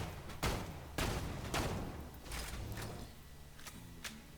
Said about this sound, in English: So let's just put a bunch of shots here.